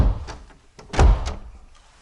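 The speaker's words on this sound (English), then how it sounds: "the door's not wanting to close" An RV door that won't close properly bumps and thuds against its frame indoors, a few knocks and one heavier thunk, close and fairly loud.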